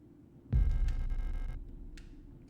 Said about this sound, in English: And that sound effect you get when you pick something up, it's very heart pounding.